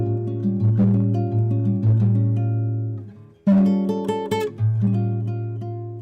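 Augmented chords strummed on a guitar ring out alone, two clear sustained strums that let the notes ring and decay before a third chord sounds near the end.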